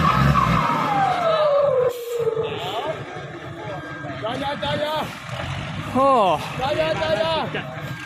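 Trucks race and haul cement loads at a local event, their engines revving and whining in repeated rising and falling sweeps, moderately near, beneath excited commentary and crowd noise.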